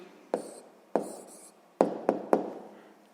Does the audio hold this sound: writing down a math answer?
yes